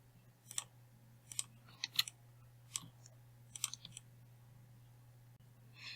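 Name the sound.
clicking keyboard shortcut Control J in Photoshop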